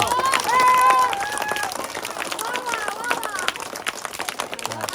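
A group of children clap together amid a chattering crowd, brisk irregular claps carrying through while adults talk.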